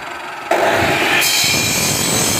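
A loud brick-cutting saw machine grinds continuously through facing brick, its harsh whine rising as the blade engages and holding steady, close up.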